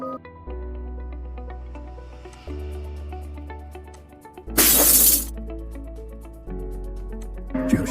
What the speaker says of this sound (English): like glass shattering.